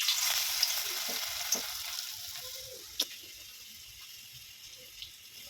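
Pieces of bottle gourd snack batter fry in hot oil with a steady, fairly quiet sizzle, while a few soft clinks and drops of the batter land in the pan.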